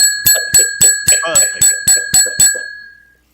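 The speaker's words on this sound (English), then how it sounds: "even the bell sucks tonight." Single bell struck in a quick steady series of about ten bright rings, each decaying briefly, then a lingering tone that fades out, close and fairly loud.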